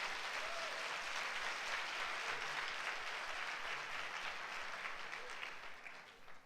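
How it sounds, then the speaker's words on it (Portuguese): Church congregation clapping during a Sunday service, a dense, steady wash of many hands sustained throughout and tapering slightly at the end. "Você não quer aplaudir Jesus por essa provisão?"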